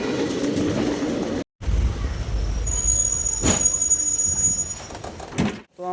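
A passenger train rolls toward Bamanhat station with a heavy, close rumble of wheels and carriages. A brief high squeal rises midway, and the sound cuts out abruptly twice.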